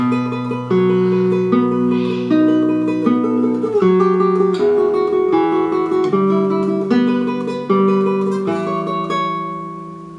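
A classical guitar plays a tremolo passage from Schubert's Ave Maria, rapid repeated treble notes over a moving bass line, clear and close with no talking.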